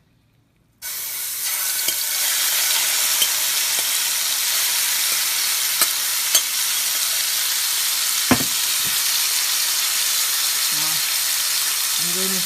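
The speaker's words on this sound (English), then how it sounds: "I'm going to simmer the beef a little." Beef simmers and sizzles in a pot for yellow split pea soup. A steady hiss starts suddenly and keeps going with a few light clinks and taps, and a voice is briefly heard.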